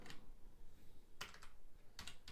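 Python code typed on a computer keyboard, a few quiet crisp key clicks with one early keystroke, a small burst in the middle and another cluster near the end, close and alone.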